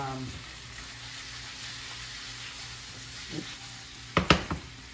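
Sausage and peppers frying in a crowded pan give a steady low sizzle, with a few sharp clatters of stirring near the end.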